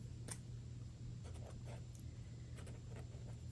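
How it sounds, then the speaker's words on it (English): Quiet, close scratches of a pen writing on paper, a few short strokes spaced over a few seconds against a low steady hum, with no talking. "So let's just write it down."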